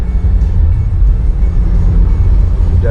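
Steady low road rumble inside a Toyota Veloz 1.5 CVT fitted with full body sound damping, a constant dense hum with no talk.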